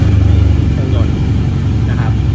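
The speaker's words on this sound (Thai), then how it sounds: "มาดูใน ส่วนของเครื่องยนต์กันดีกว่า สตาร์ท" A 2019 Yamaha TMAX DX 530 scooter engine starts and idles with a loud, close, steady low rumble, while someone talks over it.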